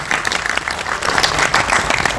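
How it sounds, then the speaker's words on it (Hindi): Steady, dense applause from a theatre audience at a gathering of artists, sustained and fairly loud throughout with no pauses. "जरा जोर से ताली तो बजाइए"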